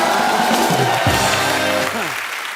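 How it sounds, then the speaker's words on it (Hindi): Studio audience at a TV comedy talk show applauds and cheers loudly as a guest takes a seat, a dense, sustained crowd roar with a brief musical sting mixed in. "जोरदार तालियां हो जाए एक बार"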